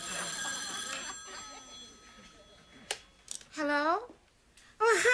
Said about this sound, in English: I can just guess what this phone call is all about